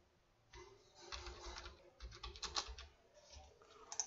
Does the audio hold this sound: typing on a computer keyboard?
yes